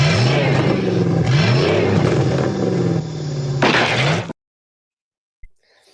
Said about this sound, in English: The sound of that car revving, it just every time it gives me goosebumps